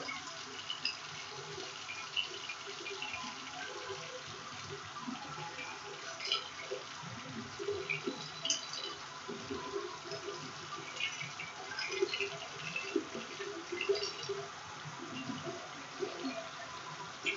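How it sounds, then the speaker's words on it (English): Hot tap water runs steadily as implements are rinsed under it in a sink, a continuous close splashing hiss with faint clinks and shifting bubbles throughout, no voices. "I'm going to rinse them with hot water"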